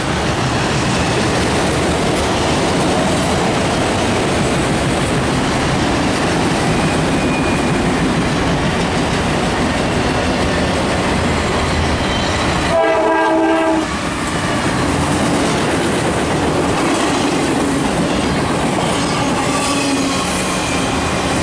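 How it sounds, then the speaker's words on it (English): A mail train rumbles past close by for a long stretch, wheels clattering steadily, with a brief break in the roar partway through. "It's the mail train."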